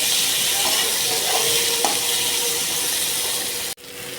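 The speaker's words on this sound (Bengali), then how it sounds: "পেঁয়াজটা লাল লাল করে ভেজে নেব" Chopped onions fry in a pan, giving a loud, steady sizzle with faint stirring scrapes, then a brief dip in the hiss near the end.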